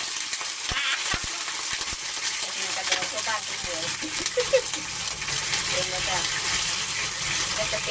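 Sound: water added to frying rice noodles in a pan

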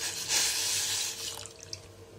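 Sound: pouring milk into a pan

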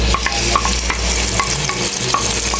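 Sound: sautéing cubed chicken breast marinated in soy and lemon

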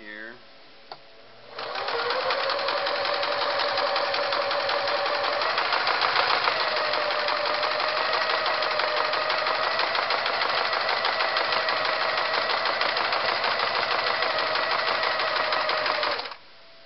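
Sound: Singer Model 353 Genie sewing machine sewing a satin stitch

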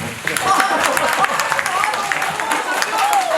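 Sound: audience applause

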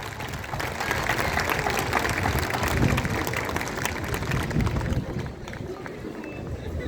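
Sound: applause

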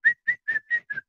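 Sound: voice imitating a whistle

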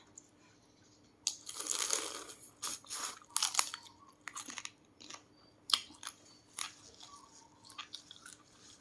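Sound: eating blue crab in spicy papaya salad

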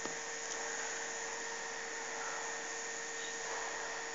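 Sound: electric motor running on MSP430 motor control board

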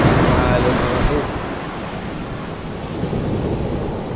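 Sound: ocean waves at the beach

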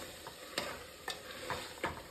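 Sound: stirring and browning marinated mutton in a pan

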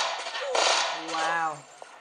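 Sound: gunshots from a gun in a mobile video game

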